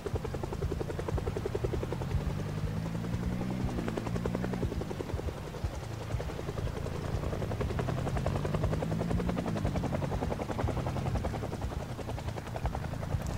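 A helicopter in the zombie survival game Project Zomboid, steady rotor chopping throbbing continuously and loudly with a slowly shifting engine whine, no talk over it.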